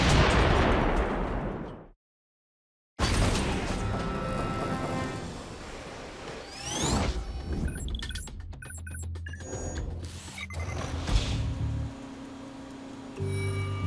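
A large forged-steel cannon fires rounds, heavy booming blasts with long rumbling tails, a sudden silent gap, then further bangs and metallic clanks, loud and close throughout.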